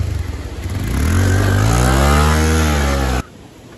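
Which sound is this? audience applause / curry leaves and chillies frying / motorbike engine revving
motorbike engine revving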